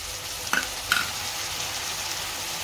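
Mixed vegetables and sprouted moth beans are stirred and fried in a pan, giving two brief scraping stirs over a low, steady sizzle with no talking.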